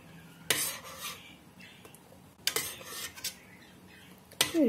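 Metal utensils clatter and scrape against a pot of walnuts in several distinct bursts, stirring sounds close up with quiet pauses in between.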